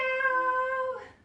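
A person's voice imitates a cat's meow, a single drawn-out tonal call that fades at the end, alone and fairly close.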